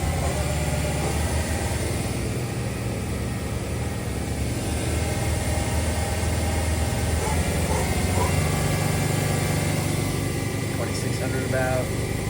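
A 2011 Doosan Lynx 220LC CNC turning center, fitted with an 8-inch chuck, runs its spindle at 1,000 rpm, giving a steady, loud mechanical drone with continuous broadband whir that holds unchanged throughout, with a voice talking over it.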